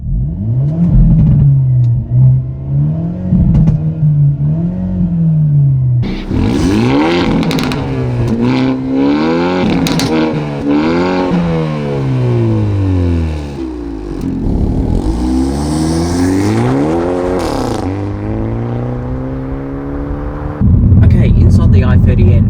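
A 2024 Hyundai i30 N Sedan drives off and accelerates, its engine note rising and falling through the gears close by, loud and continuous, with someone talking over it in places.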